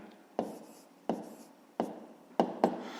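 Pen writing by hand while working a fifth-grade math division problem: five distinct scratchy strokes, each a sharp attack trailing off, evenly spaced then two close together, near and clear with no talk.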